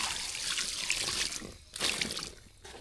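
Water splashing and trickling over a freshly caught carp of about 12 pounds, a steady close pour with a couple of brief pauses, no talk.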